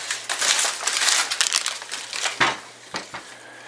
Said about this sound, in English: Comes in a little bit of deli paper.